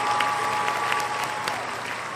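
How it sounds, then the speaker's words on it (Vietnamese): Steady, dense applause from a studio audience on the Ca Sĩ Thần Tượng singing show, cheering contestant Quang Hùng; even and sustained throughout, with no talking. "Một tràng pháo tay nữa cho Quang Hùng"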